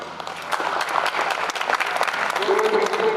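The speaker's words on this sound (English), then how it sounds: "Give a big clap." A crowd at a Republic Day event claps for students, dense steady applause with distinct sharp claps, while voices carry underneath and a sustained tone enters toward the end.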